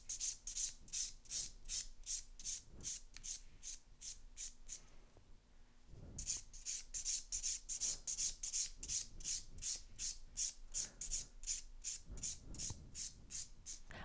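Acrylic gel hybrid nails are filed and bevelled down toward the tips in quick, steady, close-up rasping strokes that repeat evenly with one brief pause partway through.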